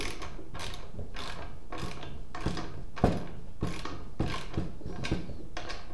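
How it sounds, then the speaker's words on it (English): A self-locking nut is turned onto a bolt for a homemade hot wire styrofoam cutter, heard as repeated rhythmic ratcheting clicks in regular strokes, close and steady, with no speech. "Then I will add another nut there."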